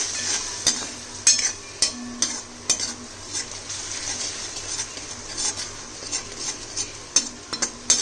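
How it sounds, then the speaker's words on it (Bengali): A utensil stirs bottle gourd peel paste into a pan with black cumin seeds, making repeated scrapes and knocks against the metal over a soft, steady sizzle, close and without talk. "এবার চলো এই পেস্টটাও আমি এতে মিশিয়ে দিই"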